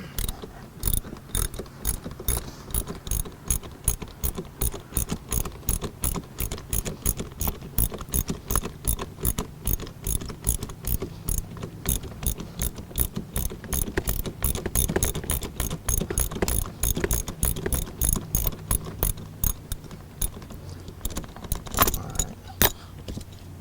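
A ratchet works a T50 Torx seat bolt loose inside a 2009-2013 Ford F150 cab, with a loud, close run of rapid, evenly repeated clicks that goes on steadily almost without a break.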